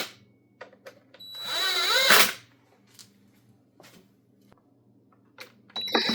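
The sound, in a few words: power tool tightening screws on string trimmer muffler cover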